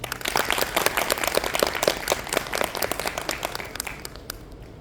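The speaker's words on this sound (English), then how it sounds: "Please give her a round of applause." Audience applause welcoming a Maynooth University professor to speak at a National Women's Council event; a room of listeners claps briskly and evenly, then the sound thins and fades out toward the end.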